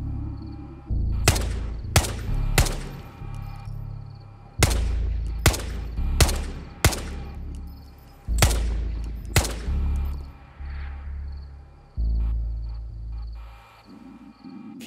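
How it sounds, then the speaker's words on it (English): Repeated gunshots from a player firing in the shooter game Ghosts of Tabor, sharp loud cracks coming singly and in quick pairs across the stretch, each with a short boomy tail over a low rumbling background. "They heard me shooting."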